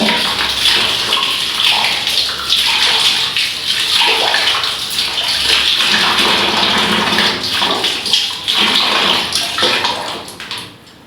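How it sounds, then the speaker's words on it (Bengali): Water gushes loudly and steadily from a newly fitted tap on a geyser pipe line, a continuous splashing rush that holds for about ten seconds before tapering off at the end. "এখন এই যে কলটা খুলবো, কলের থেকে দেখো জল পড়বে।"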